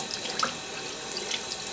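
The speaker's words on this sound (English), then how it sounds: "just rinse it with warm water" Warm tap water runs steadily into a sink while makeup brushes are rinsed, a continuous close splashing stream with no voices.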